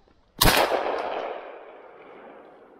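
A single sharp shotgun blast rings out close by during a morning pigeon hunt, followed by a long echoing decay across open countryside.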